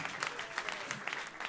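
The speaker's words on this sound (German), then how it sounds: "Macht mal einen riesen Applaus für euch selbst, dass ihr heute Abend hier seid." Audience applause at a comedy show in Berlin, a steady wash of clapping that fills the short stretch without pause, moderately loud and fairly close, with no talking over it.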